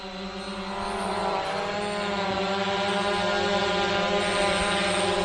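JJRC X17 GPS drone hovering at about 1.5 metres, a steady, loud, continuous whirring buzz of propellers and motors with a sustained tonal whine, holding level throughout with no talk.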